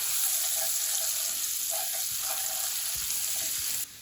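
Chilli and garlic frying in oil in a pan for pasta amatriciana, a steady, even sizzle at moderate distance with faint stirring taps, no talking, cutting off at the end.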